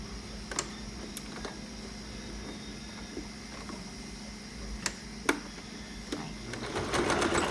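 Sewing machine stitching a one-centimetre seam on a sport collar, a faint continuous mechanical hum with a few sharp ticks and clicks, building slightly louder at the end.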